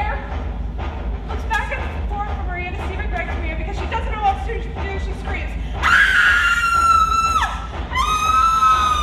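Actress in a secondary school stage drama production lets out a long, loud, high scream, then another shorter one, after a stretch of talk and murmuring from the stage.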